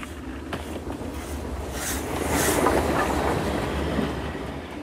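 Gordon the big steam engine chugs away along the rail line, a steady rumbling roll that swells louder midway and carries on continuously, with no talk over it.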